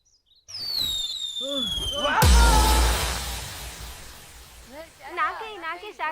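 Firecrackers burst in a film scene: whistling rockets rise, then a loud crackling blast breaks out, followed by a fading crackle with squealing voices and calls over it.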